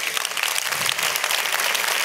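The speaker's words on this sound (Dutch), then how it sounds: "Ga staan en geef ze een heel mooi applaus." Warm applause from a seated crowd at a labour movement gathering, continuous and even, with scattered individual claps standing out and no voices over it.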